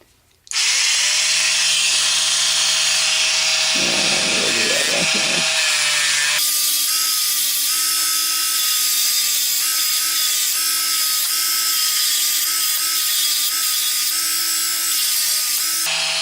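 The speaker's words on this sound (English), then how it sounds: "take the Dremel with the drum head, okay, and we're going to continue working on the flange or the tenon" A Dremel rotary tool fitted with a sanding drum shapes the wooden tenon of a small mannequin doll, a steady high whine running close and loud throughout, its pitch dropping partway as the drum bites the wood.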